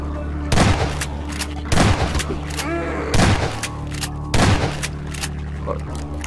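Loud bursts of gunfire in Half-Life 2, four heavy volleys spaced about a second apart, over a steady electronic background hum with no talking.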